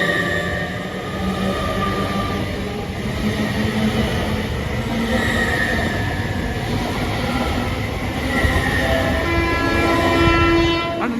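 A Great Western Railway passenger train, unit 800-312, pulls away from Didcot Parkway with a rising electric whine, rumbling wheels and rhythmic clacking over the rails, loud and close.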